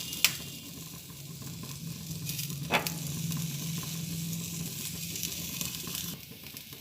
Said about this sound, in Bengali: বেগুনগুলো দুটো দিক ভেজে তুলে নিচ্ছি।